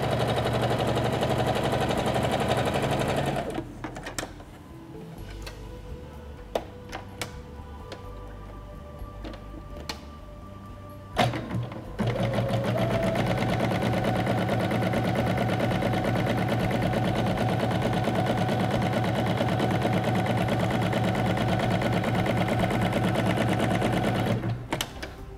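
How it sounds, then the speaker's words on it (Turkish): Sewing machine stitching the sleeve seams of a gathered blouse, a fast steady rattling hum that pauses for several seconds amid clicks and fabric handling, then resumes and runs continuously until near the end, close and loud. "Bir makine ayağından dikişimizi, sonra da sürfilemizi yaparak kol dikişlerimizi bitirdik."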